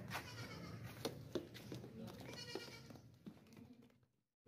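A large healthy goat at a livestock sale bleats several times, close by, its cries standing out over faint background murmur before the sound cuts off near the end.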